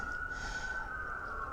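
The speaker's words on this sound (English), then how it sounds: "Ambulance." An ambulance siren holds a steady wailing tone, faint and somewhat distant, over low background rumble with no talk.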